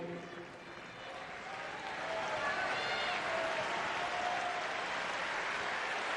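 A tennis crowd at a Sampras versus McEnroe semifinal in Boston breaks into sustained applause and cheering that swells after a couple of seconds and holds at full strength, with commentary under it.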